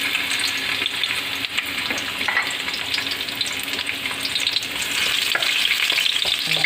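Onions sauté in a pan for chicken sinigang with a continuous, close hissing sizzle that swells slightly toward the end, with occasional soft stirring scrapes and no talking.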